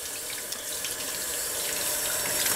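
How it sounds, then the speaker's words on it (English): Water runs steadily onto a spinning ball to wet it, a continuous close hiss of flowing water like a running faucet, even in level from start to finish with no voices. "when we wet the ball"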